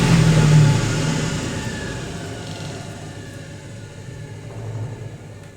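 A 1980s Ariston by Colston Electronic 3000 spin dryer winding down from its spin, the motor's hum sinking steadily in pitch and loudness until it nearly stops, close by with no voices.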